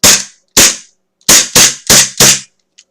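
A WE M1911 airsoft pistol fires six sharp, loud snapping shots at close range, two spaced singly and then four in a quicker run, each with a short decaying tail.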